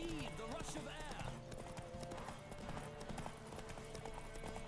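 Horse hooves clip-clop at a gallop in The Witcher 3, a steady rhythmic pounding with an occasional whinny, heard under game music and spoken commentary.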